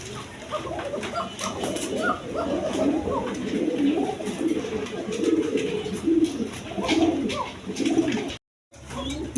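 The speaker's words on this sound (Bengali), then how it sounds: "এখানে এক পেয়ার হাইফিলাইন গিরিবাস কবুতর আছে" A pair of high-flier Giribaz pigeons coo close by, repeated deep rolling coos layered over a busy bird-filled background, with a brief cut to silence near the end and faint voices mixed in.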